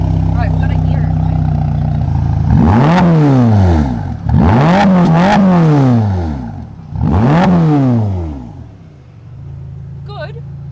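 Ferrari Roma engine revving hard three times in quick succession, each blip rising and falling loudly close by over a steady idle, with a voice briefly at the end.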